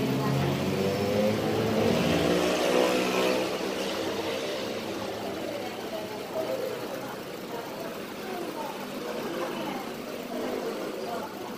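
A gasoline engine in a Honda City i-VTEC running during an oil flush, idling with a steady low hum and a louder swell near the start, heard up close while people talk over it.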